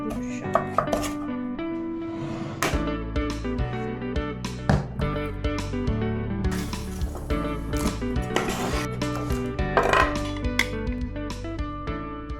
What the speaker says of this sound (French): on va couper les pommes de terre